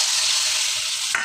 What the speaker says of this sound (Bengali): আমি আদা ভাজছি